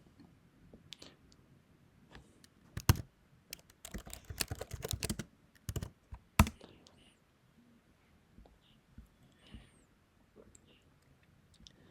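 Computer keyboard typing while writing code, a burst of close, sharp key clicks in the middle with sparse quieter taps before and after.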